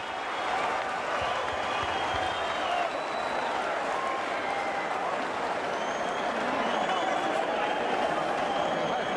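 Boxing arena crowd roaring and cheering steadily at the 1998 Arturo Gatti vs Ivan Robinson fight near the end of a round, a dense continuous wash of voices and clapping with faint commentary beneath.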